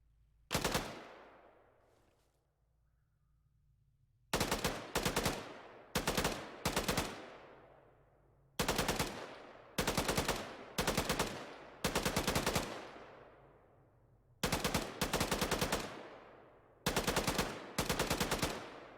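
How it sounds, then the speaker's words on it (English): Machine gun fire in Arma 3 comes in loud, sharp bursts of rapid shots, each burst a few seconds long and separated by short pauses, with echoing tails trailing off after them. "I'm gonna DC this machine gunner and shoot him up."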